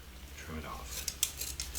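Scissors trimming decorative mesh ribbon on a snowman door wreath, a few faint, quick snips and crisp rustles of the mesh near the end of a short, quiet moment.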